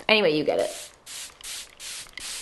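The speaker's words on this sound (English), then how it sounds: "I am gonna go in with my setting spray" Setting spray misted onto a face after makeup, heard as four short hissing spray bursts in a steady rhythm, close and fairly soft, following a brief spoken phrase.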